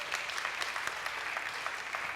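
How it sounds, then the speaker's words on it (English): A lecture audience applauds after being asked to clap along, giving a soft, dense wash of many hands heard from a distance, even and continuous. "Everybody clap your hands if you do."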